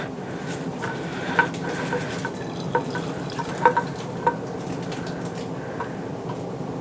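Water and oil draining from a freeze dryer vacuum pump during an oil change, with soft irregular drips and trickles over a steady low hum, close and fairly quiet, no talking.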